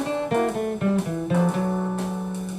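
An electric jazz guitar plays a quick lick over a minor 2-5 progression, a short run of clean, distinct single notes picked close and clear, with no talking.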